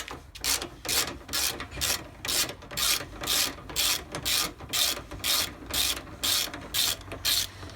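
Headlight bolts being undone on a Holden Commodore VY with a ratchet, which gives a close, rhythmic clicking in evenly spaced strokes that keeps going with no talk.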